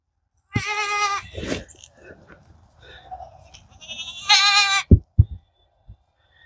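A goat being fed pumpkin on a small farm gives two loud, wavering bleats a few seconds apart, with quieter rustling and soft thumps between and after.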